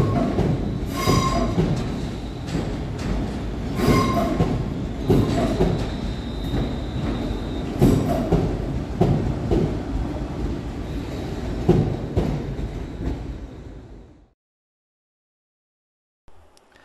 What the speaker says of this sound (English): we see 350-233 terminating with a West Midlands Railway service from Rugeley Trent Valley